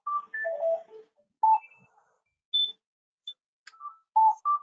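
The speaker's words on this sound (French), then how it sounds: "C'est le téléphone qui sonne chez moi." A home telephone sounds in short electronic tones and beeps, spaced irregularly with silent gaps, clear and close in a quiet room.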